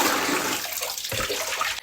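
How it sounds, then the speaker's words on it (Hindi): Clean tap water rushing into a container, a loud steady gushing stream that runs continuously for about two seconds before cutting off abruptly. "पहले मैं इसमें पानी भर लेती हूँ, साफ पानी।"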